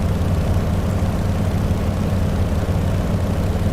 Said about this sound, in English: Airplane is too loud.